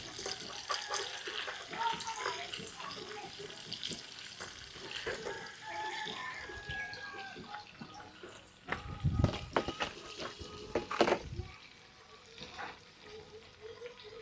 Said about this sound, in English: we fry up some onion and pepper